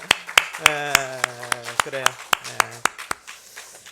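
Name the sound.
clapping in welcome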